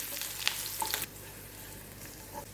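Crushed garlic sautés in a pan with a soft, quiet sizzle and a few utensil taps near the start.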